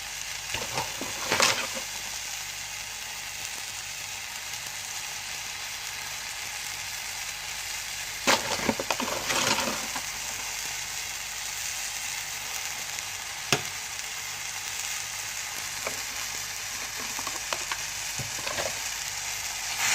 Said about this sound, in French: Et je vais mélanger un petit coup pour bien faire caraméliser le tout.